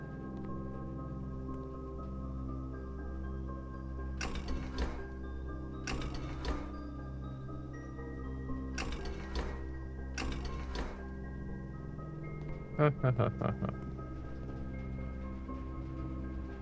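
Aquarium machinery runs in the video game Blue Prince as a steady low hum, punctuated by four bursts of mechanical clattering and a final quick rattling sequence.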